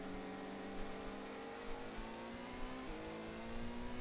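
Racing car engines in the PlayStation video game Gran Turismo, a steady droning whine of revving motors with a slight pitch shift near the end, moderately loud and continuous, with no talking.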